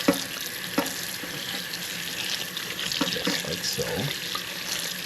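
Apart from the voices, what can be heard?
tap water washing salt off codfish in sink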